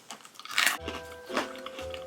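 Freeze-dried Skittles candy crunched between the teeth close up, a loud brittle bite followed by a few crackling chews.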